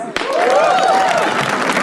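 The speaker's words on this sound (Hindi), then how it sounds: "तालियां प्लीज" Audience applause at a stand-up comedy roast, a loud steady burst of clapping mixed with crowd voices.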